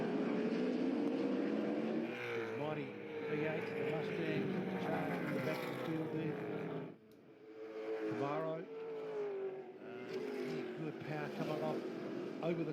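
Muscle race cars at Pukekohe race circuit scream past at high speed, engines rising and falling in pitch as they pass close and loud, with a brief lull midway, under continuous race commentary.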